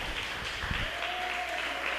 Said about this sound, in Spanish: Dale un fuerte aplauso al Señor en esta hora.